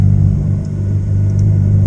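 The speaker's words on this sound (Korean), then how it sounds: "스티어링 휠의 엔진 시동 버튼으로 잠자는 트윈 터보 8기통의 잠을 깨웁니다." A Ferrari F8 Tributo's 720-horsepower twin-turbo V8 rumbles loud and close in a steady low idle, holding a deep, even drone throughout with no voices.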